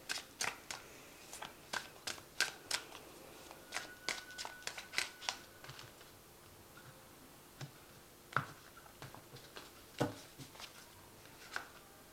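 Tarot cards are riffled and flicked in a quick run of crisp snaps, then slower, sparser clicks as single cards are drawn and laid down, quiet and close.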